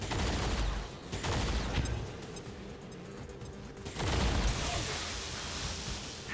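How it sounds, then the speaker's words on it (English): An EMP grenade goes off in the XCOM 2 strategy game, heard as rough bursts of crackling, blast-like noise that rise, fade and return, with quieter rumbling between them. "We should probably get an EMP grenade right on these guys."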